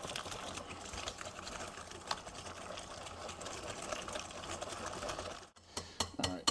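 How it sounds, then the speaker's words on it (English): Jam blondie batter with lemon zest is whisked by hand in a bowl. A close, steady rapid clatter runs for several seconds, then stops, followed by a few separate taps. "Now we're going to whisk that together until it's smooth."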